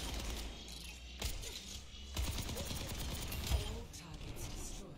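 Rapid automatic gunfire from a Tactical Visor in the Overwatch video game, shooting down twin training bots as dense mechanical bursts with clicks, set under a game voice.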